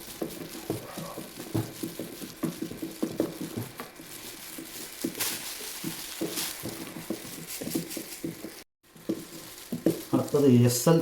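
A homemade dishwashing liquid mixture is stirred steadily in a container, giving close, rhythmic wet swishing and scraping with a few brief breaks.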